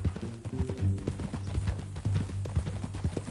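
A horse's hooves clip-clop in a steady, close rhythm of sharp knocks that continue throughout, over a faint tonal background and without speech.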